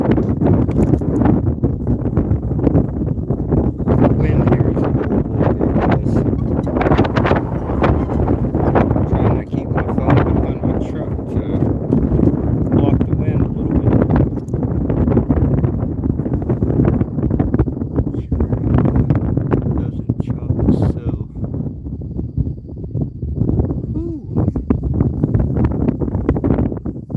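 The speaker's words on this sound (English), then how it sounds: "The wind here is horrible again, guys." Strong wind buffets the microphone beside a lake on a Sunday afternoon fishing outing, a loud continuous roar with rumbling gusts that fill the whole stretch.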